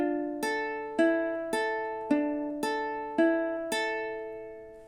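A ukulele plays measure 5 of a song, seven evenly spaced plucked chords ringing clearly and alone, each decaying before the next strike.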